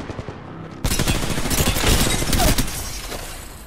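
Gibraltar's airstrike in Apex Legends hits after a brief quiet lead-in, a dense, loud fusillade of rapid explosive impacts that roars continuously to the end of the clip.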